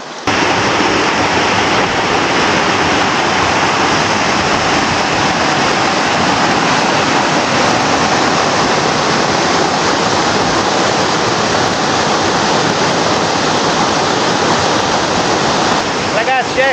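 A hidden waterfall beside a hiking trail near Calabritto in southern Italy roars loud and constant, a dense unbroken rush of falling water close to the listener for the whole stretch.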